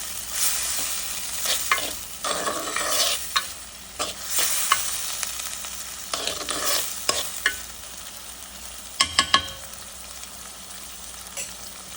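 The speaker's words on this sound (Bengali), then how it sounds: "আদা রসুনটা বাটাটা দিয়ে ভালোভাবে একটু সটে করে নেব" Ginger-garlic paste and onions are sautéed in a pan, with a soft sizzle under bursts of spatula scraping and stirring and a few sharp clinks near the end.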